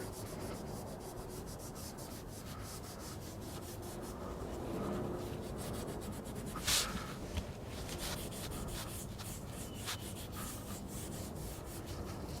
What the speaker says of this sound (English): This will also get a little bit of the surface rust off